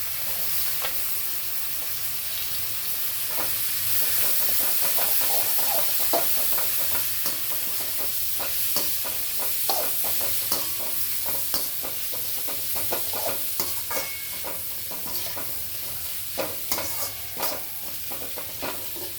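Onions and green chillies sizzling in butter in a pan, a loud continuous crackling sizzle with frequent scraping stir strokes, close and without talk.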